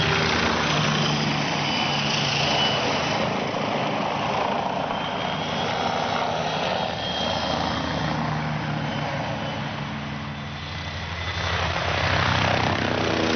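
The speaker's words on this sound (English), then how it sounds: "This helicopter pilot flying really close to the ground." Helicopter flying very low over the ground, a loud continuous rotor and engine roar with a rough, throbbing texture that holds steady throughout, dipping briefly before swelling again near the end.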